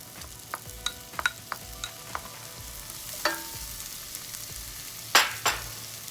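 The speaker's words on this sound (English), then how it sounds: "Once it becomes lightly brown, add your onions." Onions sizzle softly in a hot pan with garlic for a masala shrimp dish. Sharp scrapes and clinks from stirring come through at intervals, with a louder clatter near the end.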